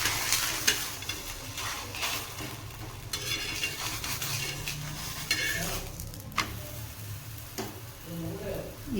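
Thin rolled flatbread cooks in a hot oiled pan as oil is added around it, giving a steady sizzle and frying crackle, with scraping and stirring sounds, close up.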